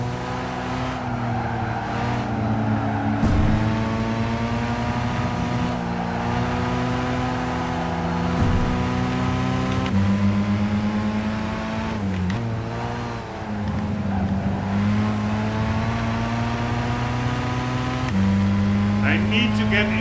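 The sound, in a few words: Porsche race car engine in Gran Turismo 5 video game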